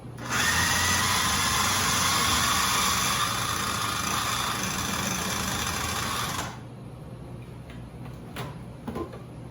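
A food processor runs on a no-bake pumpkin pie mixture, a loud, steady motor whir held for several seconds before cutting off abruptly, followed by quieter handling clicks.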